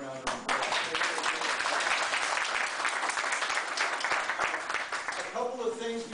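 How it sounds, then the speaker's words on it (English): Sustained applause from an audience at a Hayward city neighborhood meeting, steady dense clapping for about six seconds that tapers off at the end as a voice begins speaking. "let's give the city staff another big round of applause"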